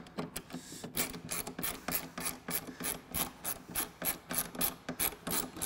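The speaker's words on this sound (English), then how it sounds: "Next step is to remove the two T40 Torx fasteners." A ratchet wrench backs out T40 Torx fasteners on a Polaris front bumper, giving a quick run of rhythmic clicking strokes, close and clear, with no voices.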